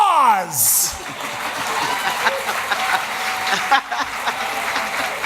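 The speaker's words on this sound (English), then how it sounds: "Applause." An awards-show audience at the 2018 Writers Guild Awards claps in a dense, sustained burst of applause mixed with a few chuckles and crowd murmur.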